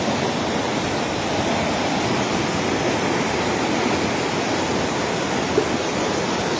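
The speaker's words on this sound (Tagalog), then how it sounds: "Lakas ng agos to." A strong current pours over a dam in a loud, steady roar of rushing water that never lets up, close and unbroken throughout.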